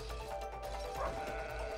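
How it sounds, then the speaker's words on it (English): A sheep in the video game It Takes Two bleats in one sustained, wavering call lasting under two seconds, heard alone over a low background hum. "sheep."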